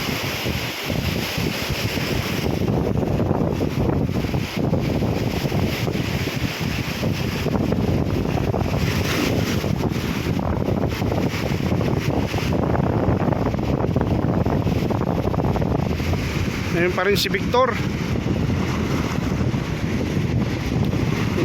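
Strong Mediterranean sea waves surge against a fishing boat hauling in a net, with heavy wind buffeting the microphone in a continuous roar; someone speaks briefly near the end.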